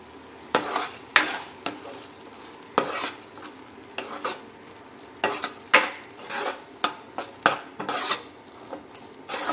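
A spoon scrapes and clinks against a pan, stirring bisibele bath with grated masala in quick irregular strokes, close and clear, with a faint sizzle underneath.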